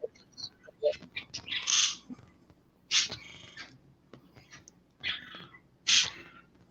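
Pet budgerigars chirp indoors, sharp bright calls in irregular bursts, close and fairly loud, mixed with soft chatter and breathy sounds.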